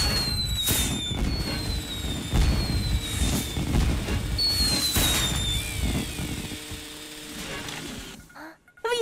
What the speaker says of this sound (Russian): Фейерверк!